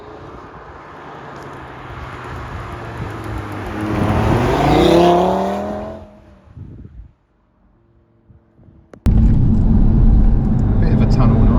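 Audi TT RS with DAZA tuning launching hard, its engine revving and rising in pitch through gears to a loud peak, then fading away before a sudden steady roar of tunnel noise takes over.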